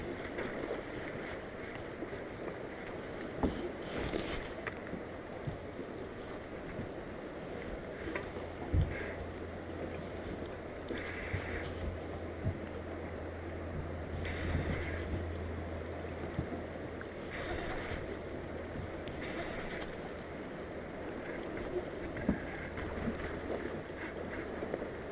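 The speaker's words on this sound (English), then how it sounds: "Put the boat in neutral, please." Fishing boat motoring on water, a steady low engine hum running continuously beneath broadband water and wind noise, with a few brief knocks and splashes along the way.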